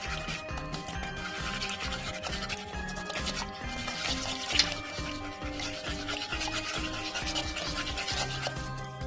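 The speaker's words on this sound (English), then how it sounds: "I'm going to use this odd-looking tool to whisk it." Rhythmic scraping and swishing strokes from whisking a mixture with an odd-looking tool, steady and close throughout, over a faint background of tonal sound.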